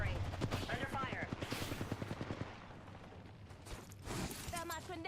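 Gunfire in a video game, a burst of rapid repeated shots at the start, then scattered shots and mechanical effects under game voices and talk.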